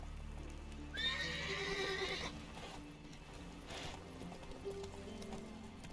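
Roach, the horse in The Witcher 3, lets out a loud whinny near the start, and hooves clip-clop steadily beneath ongoing game music and ambience.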